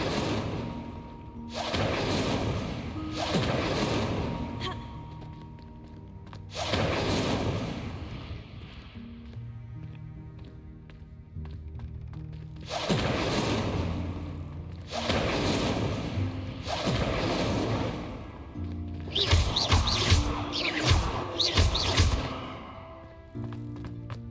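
Incendio fire spells cast again and again in Hogwarts Legacy, a series of loud, whooshing, booming blasts of flame that come in bursts a few seconds apart, with several quick casts packed together near the end.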